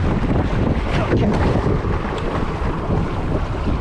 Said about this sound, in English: Big gust here.